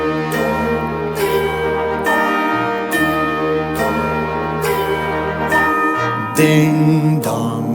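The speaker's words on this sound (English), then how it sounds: "them bells are playing loud and clear" Bright bell-like chimes strike in a steady rhythm, roughly one every second or so, ringing loud and clear over sustained festive music with no talking.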